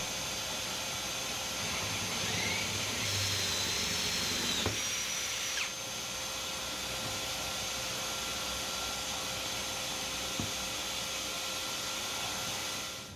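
A Forstner bit bores a hole in a workbench with a steady, loud, hissing whir that runs for the whole stretch, with a brief change in pitch partway through as the cut goes on, and no talking.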